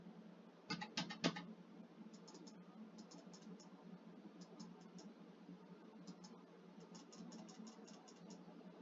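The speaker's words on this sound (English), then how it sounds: "Did my keyboard just stop working entirely?" Typing on a computer keyboard, in a few quick bursts of clicking keystrokes: a denser cluster early on and lighter runs later, faint and fairly close over a steady low background hum.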